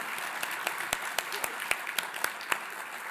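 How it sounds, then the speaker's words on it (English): At a university leadership awards ceremony, a small audience gives the hosts a round of applause: sparse, evenly spaced individual claps stand out over a soft bed of clapping, with murmuring voices underneath. "Let's give these hosts a round of applause."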